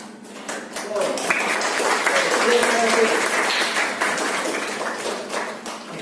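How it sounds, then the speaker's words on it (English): A group breaks into steady applause, many hands clapping together for several seconds before it tapers off. "Give applause for your friends."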